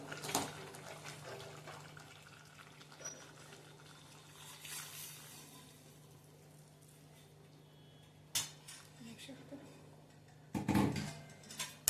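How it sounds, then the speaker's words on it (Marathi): Hot water runs and splashes steadily into a pot of chicken curry, fairly soft, followed by a few sharp clinks and knocks near the end. "ह्यात गरम पाणी मी केले ते घालायचं आहे"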